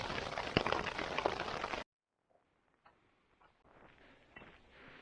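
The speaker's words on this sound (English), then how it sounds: "Here it is. The rain." Rain falls on a tent on the Colorado Trail: a dense, steady hiss of drops on fabric for about two seconds, then it suddenly drops away to faint, scattered taps in a quiet interior.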